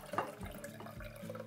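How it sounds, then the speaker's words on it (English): Redbud bud tea is slowly poured from a bowl into a strainer, a steady close trickle and splash of liquid running continuously at low level with no talk. "So the first thing we're gonna wanna do is take this bowl and slowly pour it in"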